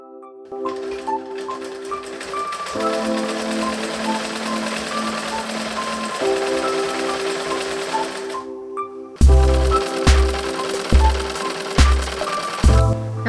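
A sewing machine stitches a pillow made from old clothes, whirring in steady mechanical runs with short pauses between them. Toward the end come several loud, separate knocking bursts.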